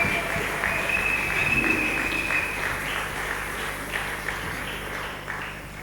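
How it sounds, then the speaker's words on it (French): An audience applauding to praise the Lord at a church ceremony installing a district office in Ngaliema, a steady wash of clapping that holds for several seconds and slowly fades, with a faint voice in the background. "On peut acclamer le Seigneur."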